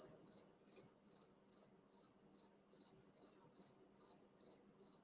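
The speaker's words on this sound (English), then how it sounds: "See if the cricket will stop." A cricket chirps in steady, evenly spaced pulses, about a dozen over a few seconds, with a faint room murmur underneath and no voices.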